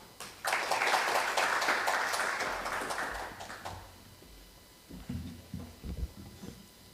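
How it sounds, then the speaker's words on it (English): A warm round of applause from an audience at a business seminar on ASEAN special economic zones, lively clapping for a few seconds that tapers off, then faint thumps and shuffling. "Please give him a warm round of applause."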